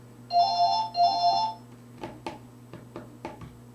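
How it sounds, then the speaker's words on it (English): A home landline telephone gives two short electronic ring bursts, close and clear over a steady low hum, followed by quiet clicks and handling sounds. "Let it ring. It's only going to be somebody selling something."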